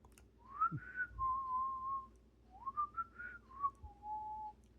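A person whistles a short tune of sliding and held notes, clear and close, with soft background noise.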